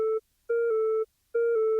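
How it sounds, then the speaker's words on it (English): A basic FM sine lead synth made in Serum with no effects plays a clean, pure electronic tone in three short repeated phrases, each note stepping between two pitches with silent gaps between, loud and dry. "So we just have a really basic FM sine lead."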